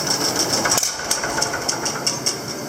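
A small 6-volt engine idles at its lowest throttle setting, giving a steady, quiet, slow putter with evenly spaced pulses and no other sound.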